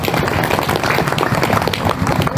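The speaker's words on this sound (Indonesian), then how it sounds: "Tepuk tangan apa ini?" Audience applause at an Islamic religious gathering, a dense, steady patter of many hands clapping together at close range and fairly loud, lasting throughout with no pause.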